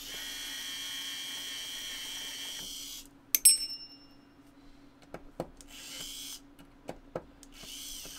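A power screwdriver whirs steadily while backing non-magnetic screws out of a keyboard, then stops and gives way to small clicks and taps of screws and parts being handled, before a short second whir.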